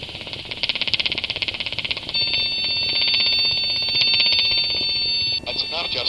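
Low rotor RPM warning horn in a Robinson R22 helicopter: a steady, piercing high tone cuts in partway through and holds over the rapid thudding beat of the engine and rotor, close in the cabin.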